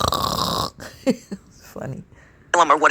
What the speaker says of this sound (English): That was my dog. He just snored.